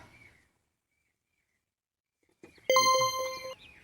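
A phone message notification sounds after a brief faint noise and silence, a bright chiming ding with ringing overtones lasting almost a second, close and clear.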